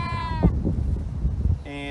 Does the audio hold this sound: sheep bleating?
yes